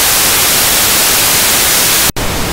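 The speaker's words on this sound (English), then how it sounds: "White noise" Loud, steady broadband white noise test signal at 0 dB played back from a TDK D cassette, hissing evenly with a brief dropout near the end.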